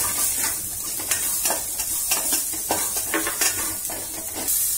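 Onions sizzle in a hot pan with ginger and garlic while egg chilli is cooked, with steady frying hiss and repeated scraping stirs of a spoon against the pan, close and continuous.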